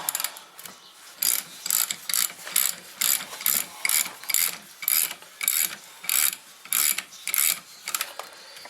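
A hand ratchet tightens a rear strut bolt on a 1995-2006 Neon, giving quick, close clicking bursts repeated in a steady rhythm of roughly a dozen strokes, with no talking.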